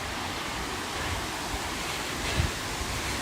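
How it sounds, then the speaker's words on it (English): A waterfall in Tbilisi Botanical Garden gives a steady, dense rush of falling water across the whole clip, a continuous broadband roar at fairly even loudness with a few faint low thumps and no voices. "let's go see the actual waterfall"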